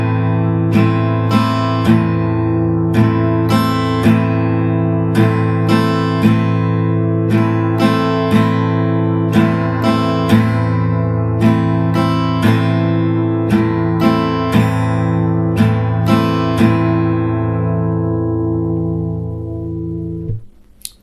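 Acoustic guitar strummed through chords in a steady down-down-up pattern, with regular rhythmic strokes ringing bright and close for about twenty seconds before the final chord fades out.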